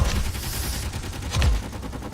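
Rapid Gatling gun fire in the space combat game Space Engineers, a loud continuous burst of dense rattling shots with a brief surge near the end, no voices.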